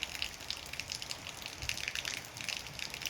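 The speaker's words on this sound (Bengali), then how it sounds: "বৃষ্টি এত এসছে" Dense, continuous rush of heavy rain pouring down in a village, close and steady for a few seconds with no voices.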